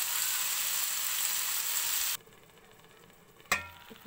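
Sorrel leaves with turmeric cook in a covered pan, giving a steady broadband sizzle that suddenly drops to a faint simmer partway through, followed by a brief clatter near the end.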